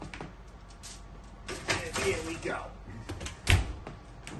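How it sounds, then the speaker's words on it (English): A home oven door opens and shuts as potatoes go in at 400 degrees, with clattering handling, a bump and a firm closing thud under someone speaking briefly nearby. "let me put these in the 400 degrees oven for 1 hour."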